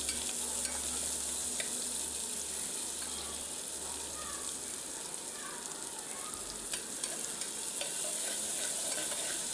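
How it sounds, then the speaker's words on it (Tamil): Chopped onions sauté in hot oil with cinnamon, cardamom and cloves, giving a steady, close sizzle with occasional stirring scrapes and no voices. "சேர்த்து நல்லா வதக்கி எடுத்துக்கிடுவோம்."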